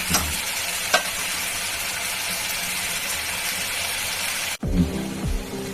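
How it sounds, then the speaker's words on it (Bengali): Food frying in oil in a pan during vegetarian home cooking, a steady dense sizzle running throughout, briefly cut off near the end before resuming with a few low clunks. "একটা ভাজা হচ্ছে"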